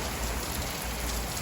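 Heavy wind-driven thunderstorm rain in Henderson, Nevada, a dense, steady hiss of pouring rain close by, loud and unbroken with no voices.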